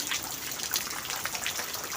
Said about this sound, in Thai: ฝนตกหนักแต่ตกไม่นานค่ะทุกคน ค่อยๆซาลงและ